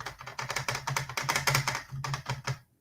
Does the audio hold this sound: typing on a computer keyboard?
yes